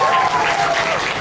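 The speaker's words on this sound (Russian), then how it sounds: "Я считаю это достойно аплодисментов" Concert audience applauding in a club, a dense, loud burst of clapping filling the whole short moment, close and continuous, with crowd noise mixed in.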